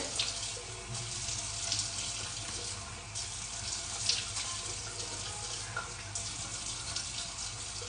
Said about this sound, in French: là on rince complètement